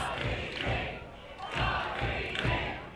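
A wrestling crowd at an AAW show chants and cheers for Rob Van Dam in rhythmic swelling bursts, loud and echoing, with occasional thuds beneath.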